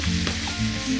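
Vermicelli sizzles as it is stirred in a hot pan, giving a steady close frying hiss with soft scraping under it and no talk.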